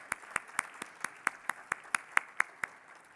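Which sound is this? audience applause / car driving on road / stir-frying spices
audience applause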